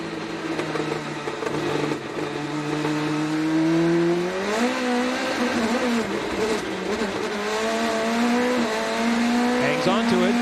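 An Indy NXT race car spins its wheels on a corner exit during practice at the 2025 Grand Prix of Alabama, its engine note wavering and climbing under race commentary.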